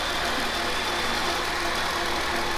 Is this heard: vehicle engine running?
yes